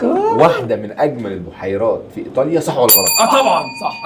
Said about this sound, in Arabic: هو رن الجرس الاول.